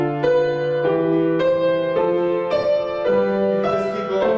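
An ascending 5/6 harmonic sequence played as a steady run of full chords, about eight evenly spaced changes, each rising slightly higher, sustained and clear with no talk.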